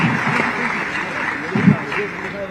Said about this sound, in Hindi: और आपकी जोरदार तालियां इनकी हौसला अफजाई कीजिए।